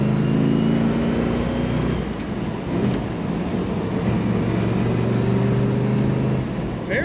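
A 1970 Chevrolet Chevelle SS convertible with an LS5 V8 idles with a steady, subdued low exhaust rumble from the rear, continuous and fairly close with no talking.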